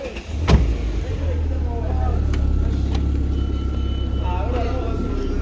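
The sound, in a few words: Audi RS3 car being driven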